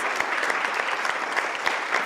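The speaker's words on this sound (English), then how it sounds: "Let's give her a huge round of applause" Audience at a women's panel event giving a loud round of applause, dense overlapping claps from a roomful of people, sustained and even throughout.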